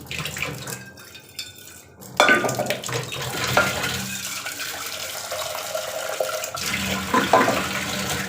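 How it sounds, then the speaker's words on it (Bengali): Cut potatoes being washed by hand in a bowl under a running tap, water splashing and sloshing in bursts with brief pauses, close and moderately loud. "আলুগুলো ধুয়ে নেব"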